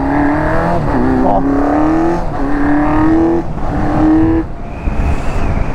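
A Honda Hornet 600 motorcycle engine, modified with a 2-into-1 exhaust from a 160 and its exhaust valve shut, revs close and loud in several repeated throttle blips, the rising drone carrying a mechanical intake-side roar, with one brief spoken word.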